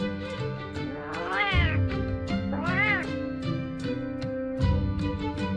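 A cat meowing in the Final Fantasy XIV video game: two long drawn-out meows, clear and close, over a steady background music bed.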